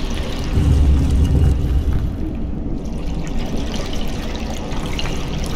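Water flows steadily through a dungeon in the video game Conan Exiles, a loud continuous rushing and trickling that stays close and even from start to finish.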